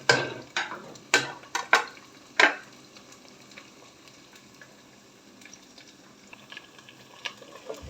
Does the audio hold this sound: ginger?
yes